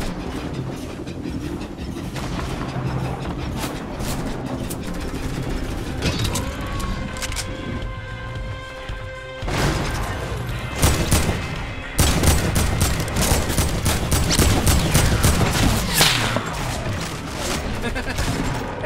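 Gunfire in a Fortnite match: a dense spray of rapid shots with sharp bursts growing louder toward the end, mixed with mechanical game effects and occasional voices.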